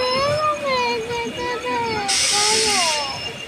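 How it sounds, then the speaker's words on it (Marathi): A loud hiss of released air or steam bursts in over a steady rumble and tonal whine as a train draws into a platform at an Indian Railways station. "तेव्हा गाडी आली थांब."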